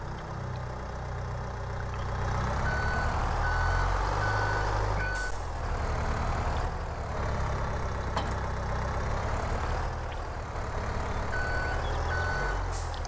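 Farming Simulator 22 farm vehicle engine idling with a steady low rumble, while repeated reversing beeps sound in short regular bursts over it, loud and close throughout.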